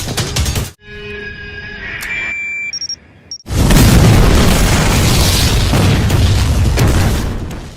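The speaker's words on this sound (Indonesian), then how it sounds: "mengakibatkan mobil-mobil di sekitar ikut meledak" Cars exploding in a film scene, a heavy boom that cuts out into a brief quiet stretch with faint beeps, then a massive sustained blast and roaring, crackling aftermath, loud and close.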